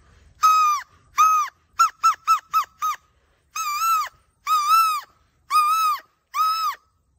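Shrill, reedy calls whistled on a grass blade imitating birds: first a few long ones, then a quick run of short chirps, then longer wavering notes, loud and close with no talking.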